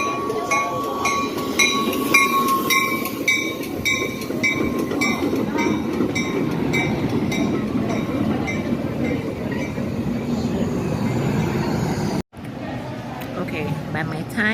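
Northwest line commuter train arriving at a Chicago station, a loud steady rumble of rolling railcars with clinking and faint wheel squeal, a platform announcement heard over it before a sudden break near the end.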